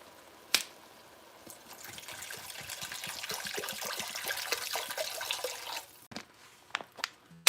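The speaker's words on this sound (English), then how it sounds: "Gonna add some water." Water poured into a pot of stew chicken, a sustained splashing pour for several seconds after a sharp knock, then a few scattered clinks and drips; faint and close.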